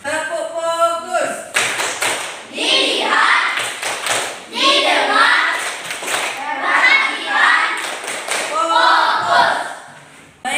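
Classroom children clap in rhythmic patterned bursts as part of a group chant, crisp taps and thumps mixed with a teacher's voice and children's voices calling along, near and loud.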